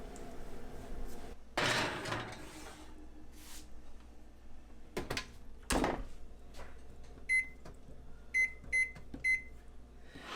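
A cake pan of small-batch Belizean black fruit cake is set into a home oven, with clatter and thuds of the pan and door around the middle, followed by a few short electronic beeps near the end.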